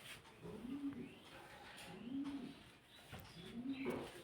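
A pigeon or dove coos outside a window, three soft repeated low calls spaced evenly against quiet background ambience, moderately distant.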